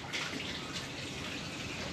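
Water pours and splashes steadily, a continuous rushing wash at moderate volume with no voices.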